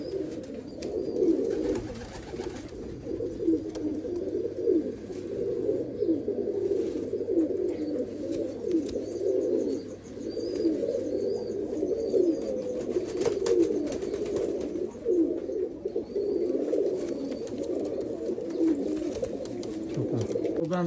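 Oman teddy pigeons coo continuously in low, throaty rolling calls, several birds overlapping close by with faint chirps above.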